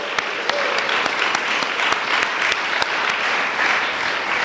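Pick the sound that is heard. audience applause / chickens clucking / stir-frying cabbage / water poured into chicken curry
audience applause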